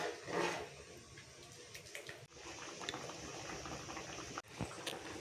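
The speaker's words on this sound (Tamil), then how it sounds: "இந்த புளி வாசனை போகிற வரைக்கும் நல்லா கொதிக்கணும்." A pot of tamarind and okra curry bubbles on the stove with a steady, low, continuous simmering, briefly interrupted twice.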